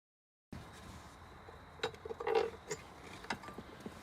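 Small 10mm ratchet wrench loosening the top clamp bolts on a car battery in a 2013 Dodge Durango, a few quiet clicking and creaking bursts close by after a silent start.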